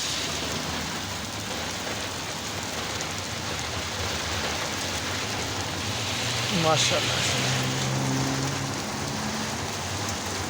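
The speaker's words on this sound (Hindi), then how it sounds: "ये जी बारिश फुल हो रही है।" Heavy rain pours steadily and loudly, with a voice speaking briefly over the downpour.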